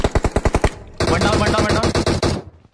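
Rapid burst of automatic gunfire in a shooting video game, a quick string of sharp shots followed by a longer dense volley that stops abruptly, loud and close.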